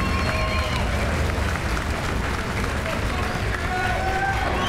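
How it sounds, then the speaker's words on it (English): Arena crowd cheering and applauding for both boxers after a four-round bout, a loud, dense wash of clapping and voices that stays steady throughout with no gaps. "let's give both fighters a big round of applause"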